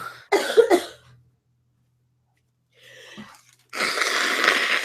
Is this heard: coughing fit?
yes